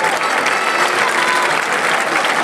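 Loud, dense applause from an audience after a folk dance performance at a festival, steady clapping filling the whole stretch with a faint murmur of voices beneath.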